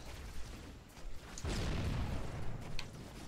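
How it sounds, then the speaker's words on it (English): Explosions in the Halo: Combat Evolved video game, a distant rumbling boom swelling in midway and lingering as a low roar with faint sharper bursts, no talking. "Oh, explosions. Some shit's going down."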